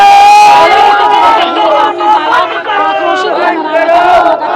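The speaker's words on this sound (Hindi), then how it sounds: "ओमन है शासन प्रशासन ला लेके नारा भी लगावत हुए नजर आवत हवे" Crowd of protesters in Raipur shouting slogans against the administration over a pond seized overnight, a loud massed chorus of raised voices rising and falling continuously throughout.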